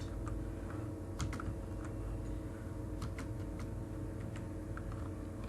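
HTML code being typed on a computer keyboard: a steady run of light, quick key clicks with irregular spacing, close and fairly quiet, with no voices.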